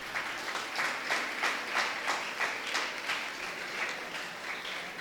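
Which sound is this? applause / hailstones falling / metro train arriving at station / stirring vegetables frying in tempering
applause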